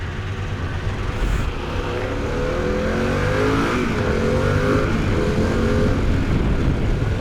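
A Harley-Davidson Pan America motorcycle accelerating on a road, its engine note rising steadily through the gears under a constant rush of wind, loud and continuous from the rider's position.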